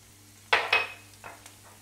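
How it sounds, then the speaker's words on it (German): Onions dropping into a little hot olive oil in a pan, two quick bursts of sizzling followed by a few fainter clinks and scrapes, short and close. "Einmal ein bisschen Olivenöl. Muss gar nicht so viel sein, aber ein bisschen schon. Da kommen jetzt die Zwiebeln rein."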